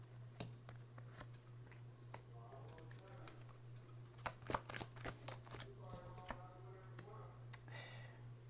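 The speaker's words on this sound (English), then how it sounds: "I'm just going to keep pulling cards until they come" Tarot cards being shuffled and pulled from a deck, a series of soft close-up clicks, riffles and sharp snaps in irregular bursts, fairly quiet over a steady low hum.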